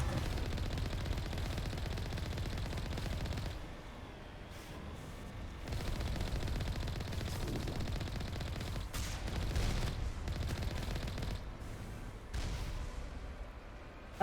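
Sustained automatic gunfire in the Mass Effect video game, continuous rattling bursts at moderate loudness with brief lulls, heard without any talk.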